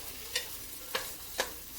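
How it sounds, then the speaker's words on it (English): Food sizzles quietly in a frying pan while three brief, evenly spaced stirring scrapes cut through, close and unaccompanied by talk. "So I'm going to give these a little stir"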